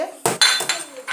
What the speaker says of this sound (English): Then I'll transfer these onions into this plate here